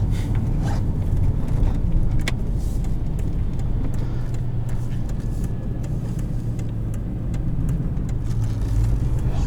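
A 2004 Pontiac GTO engine rumbles steadily from inside the cabin, a low, loud drone as the car accelerates down the road.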